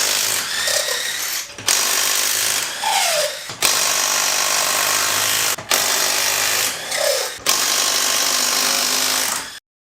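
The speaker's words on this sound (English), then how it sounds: "Let's take the wheels off and then we'll get under." Impact wrench on a Nissan 240SX S14 removing wheel lug nuts, loud bursts of rattling hammering repeated several times with brief pauses between, close up and without talk.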